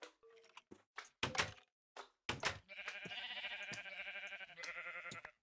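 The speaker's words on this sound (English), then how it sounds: "Let's grab some more cells from the sheep." In the Minecraft video game, a sheep bleats after a few sharp clicks and thunks. A clear, wavering bleat then rings out loudly and holds for over two seconds near the listener.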